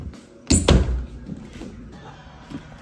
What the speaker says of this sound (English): Do you want me to close the door?